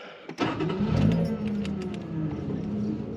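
A 1979 Datsun/Nissan 280ZX with a fuel-injected L28E engine and 5-speed manual revs hard after a brief start, its loud, close engine roar rising and then holding a steady throaty drone.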